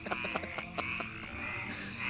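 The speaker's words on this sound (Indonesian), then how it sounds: "Tuanku, ada ribuan katak di luar." A mass of frogs croaking together, with repeated short, pulsing croaks in an irregular rhythm over a low chorus, moderately close and without speech.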